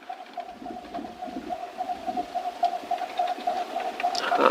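A bird calls outdoors in a quiet meditative setting, its soft, steady cooing repeating in a rapid pulsing series, fairly faint against a low background hush that swells near the end.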